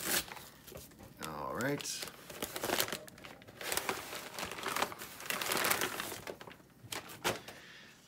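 Plastic wrapping is torn and crinkled open on a Transformers 4K Blu-ray steelbook set, with close, rustling rips in bursts for several seconds while a voice briefly speaks.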